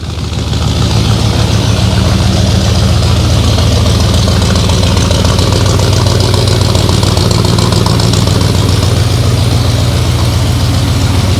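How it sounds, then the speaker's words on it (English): A rough, throaty 1979 Ford F250 Super Cab pickup engine idles steadily up close, with a raspy, ticking exhaust note from an exhaust leak running throughout and no voices. "Definitely has an exhaust leak up here I can hear."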